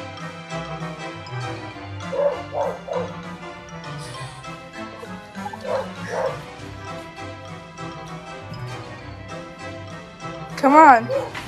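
A large dog barks in short yips and whimpers at intervals over background music, getting louder with a burst of high whining barks near the end.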